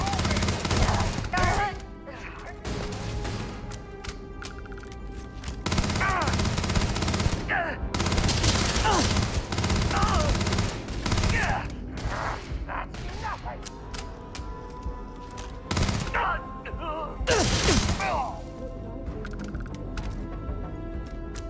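Rapid bursts of automatic gunfire from a modded Starfield game erupt in several loud volleys separated by brief pauses, with a voice talking between and over the shooting.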